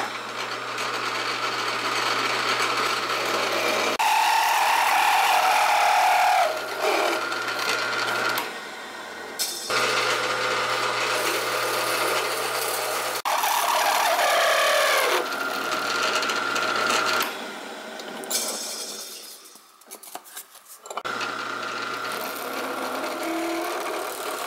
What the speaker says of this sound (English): which will be drilling out the handles.